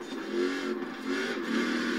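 Racing V8 engine revving in a car in Forza Horizon 4, a steady close engine drone with slight rises and falls over two seconds, no voices.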